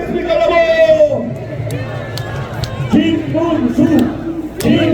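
Large crowd at a presidential election eve rally in Busan Station square roars, cheers and chants in loud sustained waves, with shouted voices rising and falling throughout.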